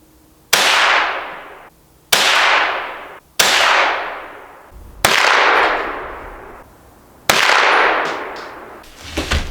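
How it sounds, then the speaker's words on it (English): Five rifle shots striking a metal squirrel target set on a log outdoors, each a sharp loud crack with a ringing metallic decay, evenly spaced about one to two seconds apart. "Let's go put the target up and let's shoot."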